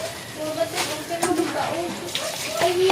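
Water pours and splashes steadily, as if from a tap into a basin, while people talk over it throughout.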